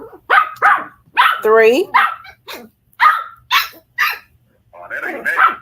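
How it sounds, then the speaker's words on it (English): A mother dog and her puppies bark in quick bursts, loud and close, some yelping higher and scrappier as they squabble, with a brief spoken word between the barks. "It sounds like that puppy trying to take over."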